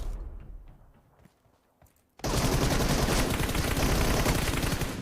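PUBG gunfire: after a couple of seconds of quiet with faint clicks and movement, a loud, dense burst of rapid automatic shots erupts and keeps hammering without pause to the end.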